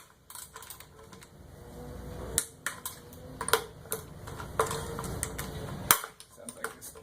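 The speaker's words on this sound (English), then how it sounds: "Sounds like this torque wrench is on its last leg." A worn, failing torque wrench clicks several times at irregular intervals during coupling assembly, with sharp mechanical snaps over faint rattling and handling noise nearby.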